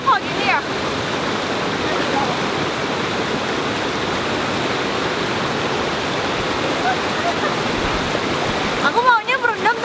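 The Yeh Ho waterfall in Bali, swollen and muddy after rain, roars in a steady, loud wash of falling water, with people's voices briefly heard at the start and end.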